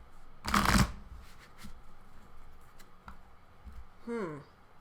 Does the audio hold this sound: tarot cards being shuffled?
yes